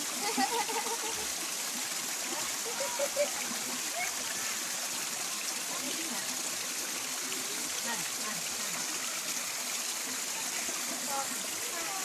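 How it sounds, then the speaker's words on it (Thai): Mae Kae waterfall in Ngao district, Lampang, pours in a steady, loud, broadband rush of falling water that stays constant throughout, with faint splashes near the start. "น้ำตกแม่แก้อำเภองาว"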